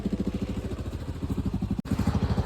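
A motorcycle engine, just serviced, runs close by with a steady, chugging low rumble that pulses through the stretch, briefly cutting out before picking back up.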